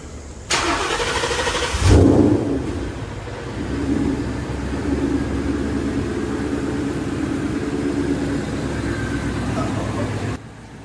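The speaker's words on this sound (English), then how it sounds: "Now we're going to go ahead and start it up." A Gen 1 Ford Mustang GT fitted with a Cobra Jet intake manifold cranks briefly and catches, then settles into a loud, steady, rumbling idle close by, with no talk.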